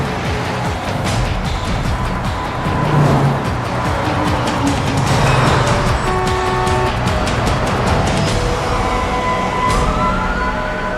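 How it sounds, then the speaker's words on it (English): A car spinning its tires while stopped in the middle of a freeway at night, sustained engine roar and tire noise mixed with surrounding traffic and brief horn-like tones, loud and continuous throughout. "He stopped in the middle of the freeway. He keeps spinning his tires."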